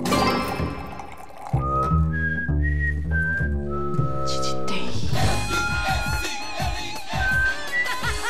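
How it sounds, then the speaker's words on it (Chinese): Melodic whistling by a person, clear and fairly loud, with sustained pitched phrases over a busy background that carries ringing, tinkling tones. "吹你口哨啊，好晒眼啊！"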